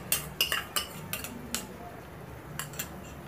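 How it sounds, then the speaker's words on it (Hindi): A spoon clinks and scrapes repeatedly against a pan while beaten eggs and Schezwan sauce are mixed together for egg bhurji, giving close, bright taps in an uneven rhythm. "और इसको अच्छे से मिक्स कर देंगे"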